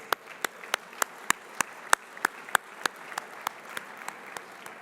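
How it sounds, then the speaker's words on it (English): A sparse round of hand claps at an awards gala, about a dozen sharp distinct claps at an uneven pace, fairly close. "They certainly are entitled to great applause."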